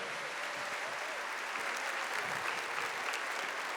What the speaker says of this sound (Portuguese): Pode aplaudir essa mãe que nos foi entregue.